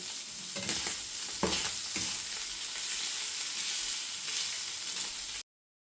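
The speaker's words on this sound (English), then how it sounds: "Give the stock cube a good stir so it's all dissolved in there." Liquid stock sizzling in a hot pan while a utensil scrapes and stirs to dissolve a stock cube, with a few louder clanks early on before the sound cuts off.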